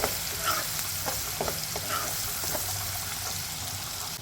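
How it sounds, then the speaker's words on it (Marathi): Continuous sizzling of onions frying in a pan, with scattered stirring scrapes and clicks throughout. "कांदा टाकते आहे कांदा आपल्याला जास्ती नाही परतायचा आहे"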